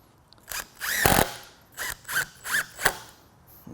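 A power drill drives screws into a stand-alone rudder assembly, several short whirring bursts close by, with brief pauses between each screw.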